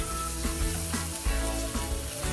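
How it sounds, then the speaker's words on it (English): Tomato cooks in a pan on high heat, giving a continuous sizzle with soft bubbling and a few stirring knocks. No one speaks. "Now cook the tomato for about a minute or so. This is on quite a high heat"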